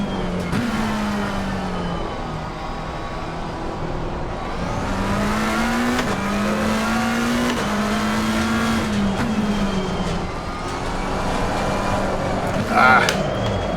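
McLaren 720S GT3 Evo race car in Assetto Corsa Competizione, engine note rising and falling through gear shifts as the rear steps out, with tyre scrub and a brief sharp noise near the end, steady and close throughout.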